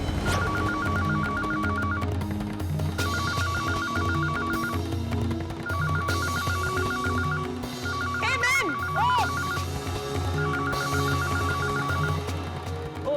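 A mobile phone ringtone repeats in short bursts, about four rings, over background music and occasional voices during preparations for a household puja.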